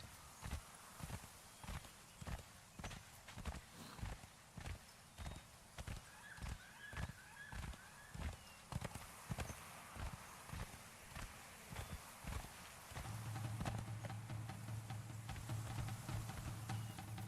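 Horse hooves galloping in the Conan Exiles video game, a steady rapid clip-clop rhythm of close, even beats over a busy game soundscape, shifting near the end into a low steady hum as the hoofbeats thin out.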